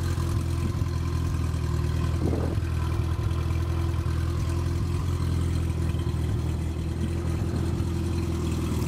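A 1960 Renault 4CV engine runs steadily at idle, a close, even mechanical hum with a brief louder burst partway through and no talk.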